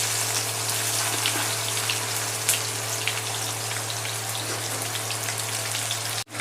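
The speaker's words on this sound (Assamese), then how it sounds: "ডাৰ্ক ব্ৰাউন হোৱালৈকে, অলপ ৰঙচুৱা হোৱালৈকে ভাজি থাকিম পিঁয়াজখিনি" Onions and three bay leaves frying in hot oil in a pan give a steady, faint crackling sizzle over a constant low hum, cutting off abruptly at the end.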